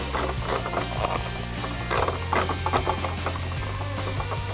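A Proline VW Bug Baja rear wing is screwed onto a Traxxas Slash 4x4 RC car body: steady close scratchy turning with faint clicks over a constant low hum.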